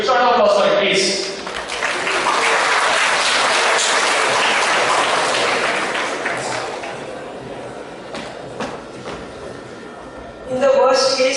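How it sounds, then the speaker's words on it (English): School students in a classroom audience applaud in a sustained, dense burst that fades gradually, with talking at the start and end. "You start off applause for it, please."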